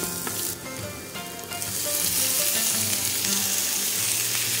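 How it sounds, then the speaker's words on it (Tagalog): Half a kilo of squid frying in a pan for an adobong pusit in coconut milk, a loud steady sizzle and crackle filling the whole stretch with no one talking. "naka-ready na yung ating kalahating kilong pusit na piprituhin natin dito sa kawali ng mga 5 minutes"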